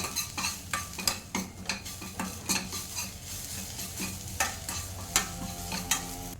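A spoon stirs spices and ginger garlic paste through poha mixture in a hot pan, giving rhythmic scraping strokes over a soft sizzle, close and steady, with no talking.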